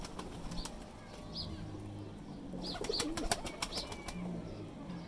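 Teddy pigeons at a breeder's loft in Lahore, with soft cooing and bursts of wing flapping close by, plus a few chirps over a steady low background.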